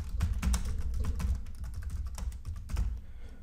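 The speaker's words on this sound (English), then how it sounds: "So let me type in my organization." Quick clicking keystrokes on a computer keyboard, a steady patter of taps close by that slows slightly near the end, with no voices.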